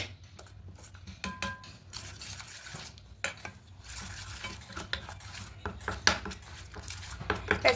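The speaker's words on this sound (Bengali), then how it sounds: "এবার এখানে দেব 1 চামচ আদার গুঁড়ো, দিয়ে খুব ভালো করে মিশিয়ে নেব" A spoon stirs ginger powder into a thick spice batter in a bowl, giving a quiet run of irregular scraping clicks and soft wet knocks against the bowl, with no talking.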